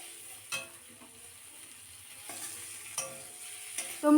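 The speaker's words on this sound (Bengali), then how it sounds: "ডিমগুলো দিয়ে দিলাম, একটু নাড়াচাড়া করে" Eggs tipped into a frying pan with a cooked-down masala, then stirred: a steady sizzle with a few scraping stir strokes and clinks of the spatula, close and moderately loud, no voices.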